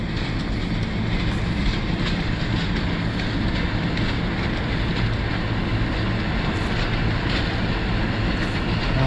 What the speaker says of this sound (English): Just in time for the scenic train to go by.